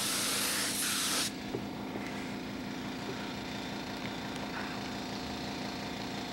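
An airbrush spraying paint gives a loud, close, steady hiss for just over a second, then drops to a much fainter, continuous airy hiss with no talk.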